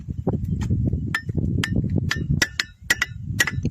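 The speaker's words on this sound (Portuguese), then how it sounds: "cada uma dessas aqui, você vai batendo, você vai vendo o som diferente" Stones struck one after another, giving sharp, bright metallic rings like small bells, about ten strikes at an uneven pace over a low murmur of background voices and outdoor noise.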